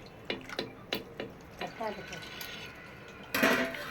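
Tamarind water poured and stirred in a clay pot while cooking Madurai fish curry, a run of wet drips and clinks against the pot followed by a louder splash of pouring near the end.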